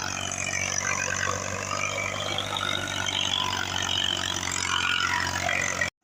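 A tractor pulling a rotavator across a one-acre field being prepared for wheat, its engine giving a steady low rumble with a hissing, churning texture above, fairly faint and constant until it cuts off at the very end.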